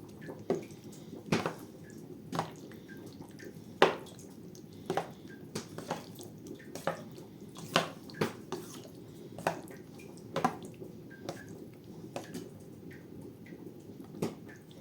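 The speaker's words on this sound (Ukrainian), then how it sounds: "Так що капає сироватка." Whey strains out of curd and drips steadily, one faint drop roughly every second, each a soft close tap in an otherwise quiet room.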